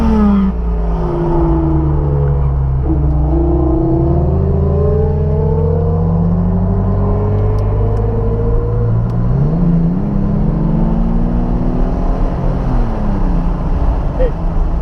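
A Porsche 911 Turbo on the Sepang circuit at night, its engine droning loud and close with rising and falling revs through gear changes, a steady in-car roar throughout.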